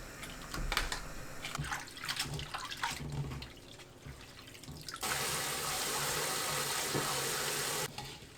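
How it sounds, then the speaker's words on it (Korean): Blanched Korean chives (scallions) rinsed under a cold running tap, a steady loud rush of water splashing into a sink that swells and holds through the latter half, with lighter handling sounds before it. "바로 꺼내서 찬물에 헹궈주세요."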